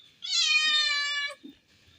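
A kitten gives one clear, drawn-out meow close by, followed by a soft rustle.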